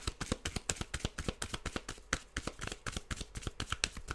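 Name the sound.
shuffling and handling tarot cards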